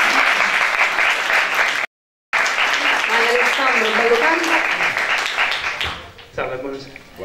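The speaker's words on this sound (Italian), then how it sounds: "Un applauso a Alessandro." Applause from an audience at a football talk event about Roma and Lazio, a dense steady clatter of clapping that breaks off briefly near two seconds, then resumes and tapers toward the end, with voices mixed underneath.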